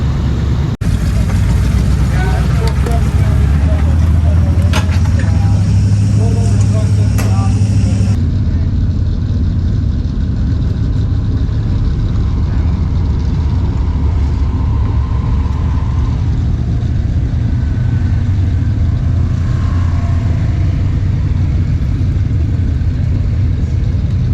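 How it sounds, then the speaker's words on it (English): A Ford truck engine on a trail runs steadily at close range, a rough low idle with a brief revving burst near the start, then settling into a continuous rumble under faint background noise; no talking. "they did a little work on the Ford, checked all the fluid levels, and sure enough, it fired up"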